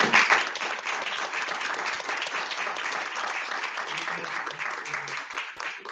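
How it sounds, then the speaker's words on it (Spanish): Audience applause at an open class with Renca mayor Claudio Castro, a sustained dense wash of clapping from a crowd that carries steadily across the whole stretch at even loudness, with faint voices mixed in underneath. "Un aplauso"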